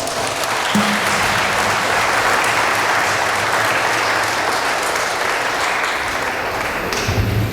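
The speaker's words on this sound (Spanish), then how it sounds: "Vamos a brindarles un fuerte aplauso." A crowd claps steadily for several seconds at a wedding in San Agustín Oapan, dense, sustained applause filling the space without a break.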